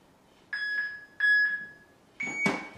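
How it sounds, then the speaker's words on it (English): An interval timer app sounds three electronic beeps: two matching steady tones about a second apart, then a third, higher and louder tone with a harsher edge, all clear and close. "an interval timer is what that's called"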